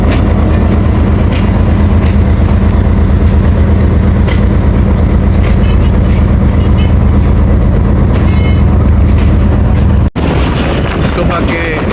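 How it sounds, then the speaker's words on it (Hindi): A shuttle train arrives at Mona railway station, its loud, continuous low rumble and rolling clatter filling the scene before the noise cuts off abruptly near the end. "हमारी 2 down shuttle train Mona railway station पहुंच गई है"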